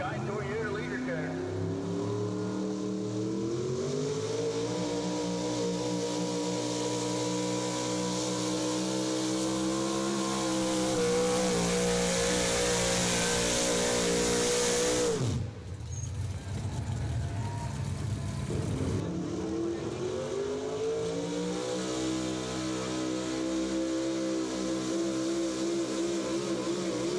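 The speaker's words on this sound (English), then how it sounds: "Truck and tractor pulling." A pulling truck at a truck and tractor pull in Findlay, Ohio revs loud and steady with rising engine harmonics, dropping off briefly before climbing again, with an announcer talking over it.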